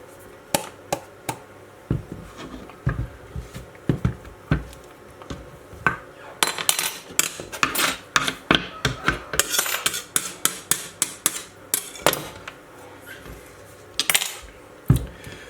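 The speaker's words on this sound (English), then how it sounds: "with the rest of the filling for the flowers, let's fill this pâtisson" A spoon scrapes and taps filling into a hollowed-out pattypan squash, making irregular clinks and scrapes that turn busier midway, close and fairly quiet with no talk.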